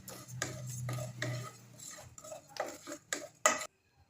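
Cumin seeds frying in a pan for village-style sambar, stirred with a spoon that gives a run of rhythmic scraping strokes and light metallic clinks, ending in a sharp clank and then silence.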